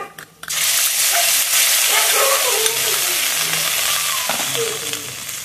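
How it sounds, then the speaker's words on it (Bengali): Cumin seeds tipped into hot oil over fried potatoes burst into a loud, close sizzle that rises suddenly and then hisses on steadily, with faint stirring clinks. "আলুর মধ্যে আমি মশলাগুলো দিয়ে দিচ্ছি। প্রথমে দিয়ে দিচ্ছি জিরে"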